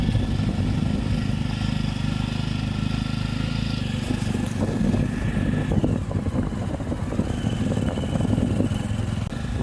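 A motorcycle rumbles along a red-earth dirt road through dense forest, its engine a steady close drone with bumps and rattles as it rides over rough ground, no speech.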